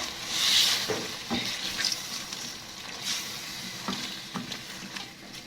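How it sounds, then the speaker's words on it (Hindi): Roughly chopped tomatoes are sautéed in a pot for aloo gosht, giving a constant moderate sizzle broken by occasional soft scrapes and knocks of stirring, close and without speech. "इसी तरीके से इसको मैं भूनती रहूंगी और ये खुद ब खुद ही सॉफ्ट हो जाएंगे"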